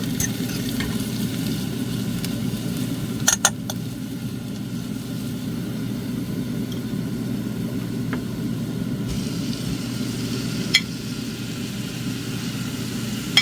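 Seasoned ground beef frying with onions in a pot gives a steady close sizzle over a low background hum, with a few sharp utensil clicks against the pot along the way.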